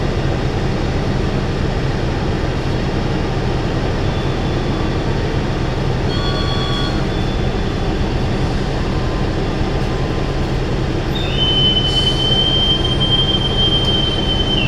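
Steady loud rumble of the Cikuray economy stainless-steel passenger train departing a station in Indonesia, with high wheel squeals coming in partway through and a long squeal near the end.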